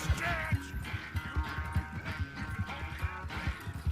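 Horse hooves gallop in a steady clip-clop rhythm in Red Dead Redemption 2, close and continuous, layered with game ambience and faint background voices.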